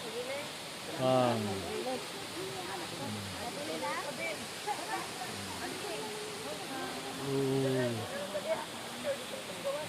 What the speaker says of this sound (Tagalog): naana po mi diri sa Katibawasan Falls